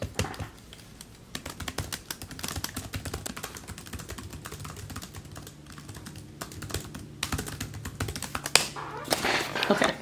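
Typing on a computer keyboard during a timed writing sprint: rapid, irregular key clicks and taps in close, uneven bursts that continue throughout, with no voices over them.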